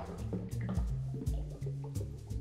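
Three-quarters of an ounce of 1-to-1 simple syrup poured into a cocktail makes a soft, close gurgling trickle with small glugging pulses, quiet and unbroken by speech.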